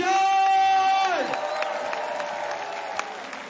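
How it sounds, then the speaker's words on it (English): Spectators at a freestyle BMX park competition in Brussels cheer, whoop and applaud loudly, with an announcer's amplified voice over the crowd at the start before the cheering trails into scattered clapping. "So make some noise for Anthony 𝗤𝗔𝗡𝗔𝗜."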